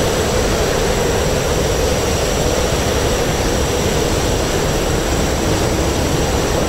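A MiG-29 jet engine roars steadily through a takeoff run in the DCS World flight simulator, a loud continuous broadband rumble and whine with no variation and no voices.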